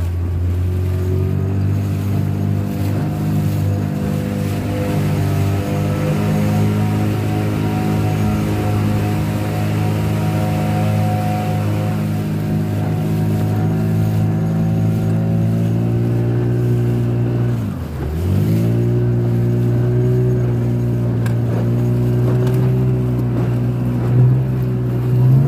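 An Ozeam 3.30 m inflatable boat driven by a Tohatsu 15 hp two-stroke outboard, the engine droning loud and close at steady revs with a brief dip in pitch midway before recovering, with no voices over it.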